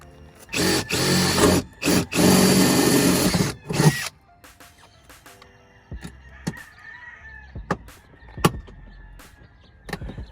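A power drill fitted with a 1/4 inch bit whirs in several loud close bursts early on, each cutting off abruptly, followed by quieter clicks, knocks and handling sounds.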